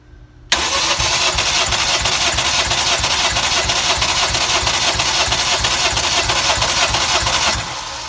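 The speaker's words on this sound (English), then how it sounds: "You want to keep cranking until the gauge stops going up." An engine with a large cam and turbo cranks on its starter during a compression test, a rapid even chugging rhythm starting abruptly and running steadily for about seven seconds, close and loud, then stopping.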